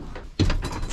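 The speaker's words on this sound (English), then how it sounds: "Door latch. Bam." A door latch on an off-grid building site shuts with one sharp, close thunk after a brief quiet moment, followed by a short rattle.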